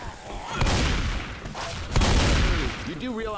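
Gunfire in the zombie shooter Left 4 Dead 2: two loud bursts of shots in quick succession, with voices talking over the fighting.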